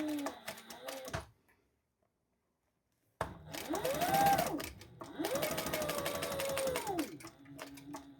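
A sewing machine stitching wallet fabric up close in quick rattling bursts with rising and falling motor whine, broken by a two-second silence before stitching resumes.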